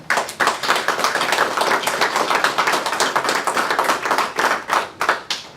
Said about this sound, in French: ça vaut vraiment une bonne main d'applaudissements